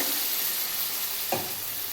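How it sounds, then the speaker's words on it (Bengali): Fried moong dal sizzles steadily in a pan, with a brief louder hiss about two-thirds through as a little water is added to the hot lentils. Close and continuous, no talk. "আমি এবার সামান্য জল দিয়ে ডালটা সেদ্ধ করে নেব"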